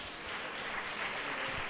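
Members of the 23 falla commissions applaud the Falleras Majors and their entourage: a steady, fairly distant wash of clapping with no clear individual claps, heard without talk.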